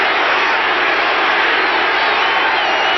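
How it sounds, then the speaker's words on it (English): A football stadium crowd at the 1982 NFC playoff game between the Packers and Cowboys, a dense, steady roar of many voices rising in a sustained chant, loud and continuous throughout. "Now the crowd chants defense."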